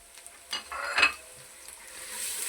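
Ginger and garlic browning in hot oil for chicken haleem, a soft frying hiss under a few scraping stirs and light utensil clinks, with a slightly louder stir near the middle.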